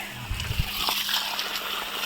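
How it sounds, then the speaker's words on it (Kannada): Water splashes and sloshes steadily nearby into a pond in an areca nut plantation, a continuous bubbling flow with faint sputters on top. "ಇಲ್ಲಿಂದ ಬರ್ತದೆ ನೀರು ಈ ಹೊಂಡಕ್ಕೆ ತುಂಬುತ್ತದೆ"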